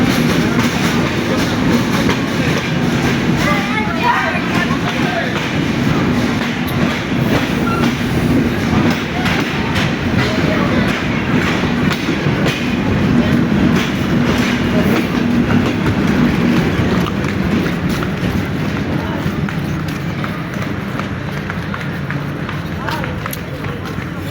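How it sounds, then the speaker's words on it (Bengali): A train rumbles past loudly and continuously at Mobarakganj railway station, wheels clattering over the rails for a long stretch, with voices talking over the noise. "এই ট্রেন দেখতে পাচ্ছেন এই ট্রেনে আসছে"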